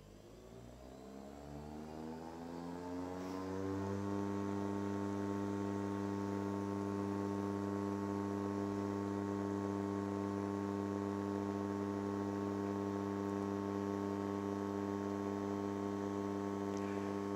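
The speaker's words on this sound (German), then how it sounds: "Der RTC 360 misst jetzt mit 2 Millionen Punkten pro Sekunde" A Leica RTC360 laser scanner spins up and runs a scan, a smooth mechanical hum rising in pitch over the first few seconds, then holding a steady, loud, tonal whine with no talk.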